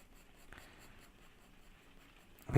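A soft 2B graphite pencil drags across paper in a faint, steady scratch, quiet and close, with no talking, ending in a louder brief rustle.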